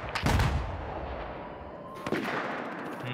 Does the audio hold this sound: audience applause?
no